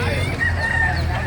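A rooster crows at a native chicken market, a loud close call with a shrill drawn-out tone over a busy background murmur.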